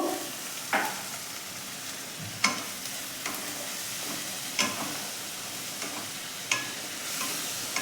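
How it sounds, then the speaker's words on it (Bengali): Ground spices with a splash of water sizzle and fry steadily in a pan for a Kerala masala egg roast, with a spoon scraping and stirring in sharp periodic clacks. "অল্প জল দিয়ে মশলাটাকে খুব ভালো করে কষবো"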